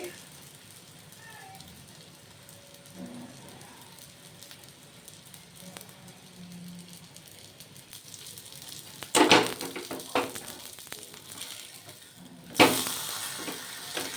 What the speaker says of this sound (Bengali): দুটো পিঠ এরকম লাল লাল লাল লাল করে ভেজে নেব